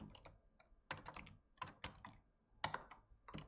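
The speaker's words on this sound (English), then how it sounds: "I'm just typing this out here" Clacking keystrokes on a computer keyboard come in quick irregular bursts separated by short pauses, close and fairly quiet, with no voices present.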